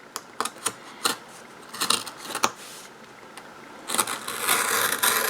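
Top layer of cardboard being cut, heard as a run of short, crisp scraping and crackling bursts at close range, ending in a longer, rougher tearing stretch.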